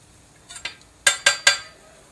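Metal utensils clink and tap against a plate while grilled fish is plated at an outdoor barbecue, two soft knocks followed by three sharper clinks in quick succession, close by with no talking.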